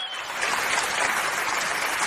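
Clapping from the audience at a mushaira poetry gathering in Dubai, a dense steady burst that swells quickly after a brief quiet start and stays full and loud for about two seconds.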